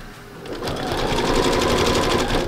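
A sewing machine stitches fabric for a beach landscape thread painting, its needle chattering in a fast, even rhythm close by, building up from a slower start.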